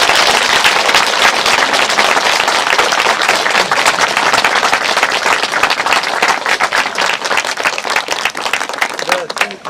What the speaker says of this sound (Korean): 다시 한번 큰 박수 보내드립니다